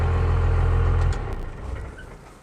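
A Dodge truck engine runs with a close, low steady rumble, then is switched off and winds down into a fading quiet.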